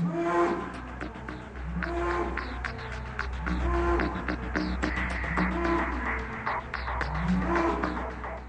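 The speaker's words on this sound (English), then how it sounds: "This cow is technically known as a Belgian Blue, and it's the product of selective breeding." Belgian Blue cattle, a heavily muscled selectively bred breed, low lowing moos repeating every second or two in a farm setting, with steady low background rumble and scattered clatter.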